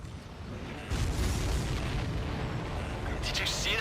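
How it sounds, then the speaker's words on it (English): Explosion in the video game Ace Combat 7 during a mission hunting supply ships, a deep rumbling boom that surges at about one second and holds as a dense, loud roar over sustained low-end noise. "Did you see that explosion?"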